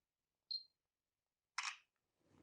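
UltraMintt Y3 phone camera firing its shutter sound: a short faint click followed a second later by a brief louder broadband snap, alone in a quiet room.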